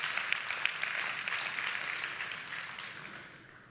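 Church congregation clapping together during a sermon, a steady moderate wash of applause that holds evenly and then slowly thins out toward the end.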